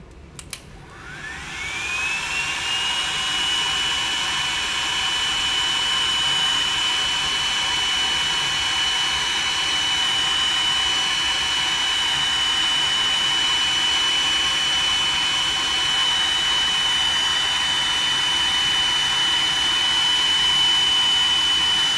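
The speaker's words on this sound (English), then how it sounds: "heat gun." A heat gun blowing hot air to melt the solder in a 12V wire connector spins up with a rising whine, then holds a loud, steady airy roar with a thin high tone for about twenty seconds, alone.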